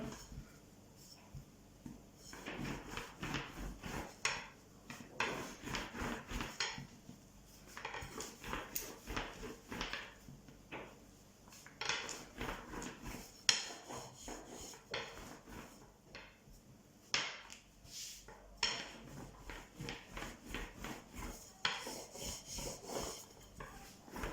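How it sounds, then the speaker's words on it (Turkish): A rolling pin works börek dough across a lightly floured counter, giving repeated soft rubbing and knocking strokes in an uneven rhythm, close and fairly quiet, with no talk. "Tezgahımı hafiften unluyorum ve böreklerimi açmaya başlıyorum"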